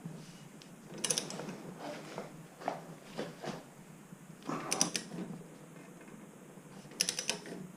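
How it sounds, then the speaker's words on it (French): A torque wrench tightens an SRAM DUB bike crankset to 54 Nm, giving three short bursts of close ratcheting clicks separated by quieter stretches of faint workshop rustle. "Donc tu serres à 54 Newton avec ta clé dynamo."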